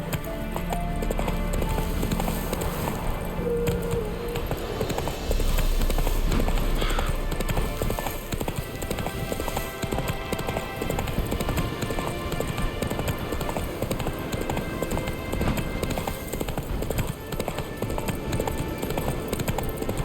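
Horse hooves galloping in The Witcher 3, a steady loud clip-clop running throughout over a dense game soundscape, with an occasional whinny.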